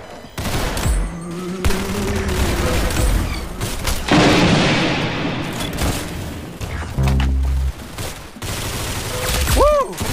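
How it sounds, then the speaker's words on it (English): Rapid gunfire in the Roblox shooter Arsenal: bursts of close, loud automatic shots and heavy booms spread across ten seconds, with brief pauses and a whooshing effect near the end. "That's some beautiful shooting right there."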